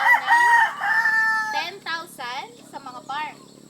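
A fighting rooster crows up close, several sharp, loud calls in quick succession, with someone talking nearby between and under the crowing.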